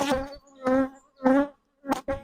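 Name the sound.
honeybees buzzing around an open queen mating nuc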